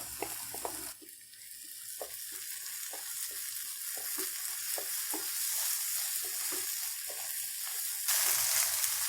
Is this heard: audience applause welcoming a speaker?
no